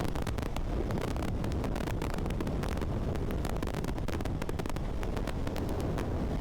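Constant heavy wind roar buffets the microphone while riding a KTM Duke 390 motorcycle at speed on the highway from Chennai to Trichy. A loud, steady rush continues without a break.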